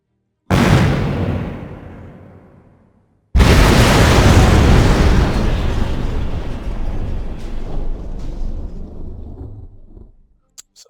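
Torpedo explosions in the video game Battle Fleet 2 boom heavily twice, the first blast decaying over a couple of seconds and the second a long rumbling roar that slowly fades, with no talk.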